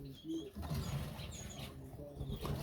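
Pigeon-like birds in a backyard bird shed, soft cooing calls and brief wing flutters, close by with a faint murmur of talk underneath.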